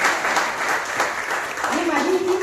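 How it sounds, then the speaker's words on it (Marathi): Loud, steady clapping from an audience welcoming a student guest of honour on stage at a teacher-training college event in Aranyeshwar, Pune; dense, continuous applause with a faint murmur of voices underneath. "सगळ्यांनी जोरात टाळ्या वाजवून"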